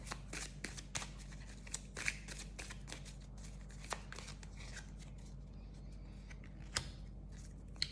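Oracle cards shuffled by hand in a steady run of soft riffling slaps and flutters, close and fairly quiet, with a few sharper card snaps standing out over a low background hum.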